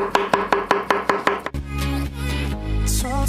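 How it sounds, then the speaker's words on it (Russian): Bananas are chopped into pieces on a board, about eight quick evenly spaced knife knocks, followed by louder clattering and rustling handling noises. "И каждый банан нарезаем на кусочки."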